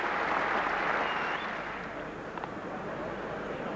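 A cricket crowd applauds Richard Hadlee's innings, a broad, steady wash of clapping from a distant stadium that eases slightly in level partway through.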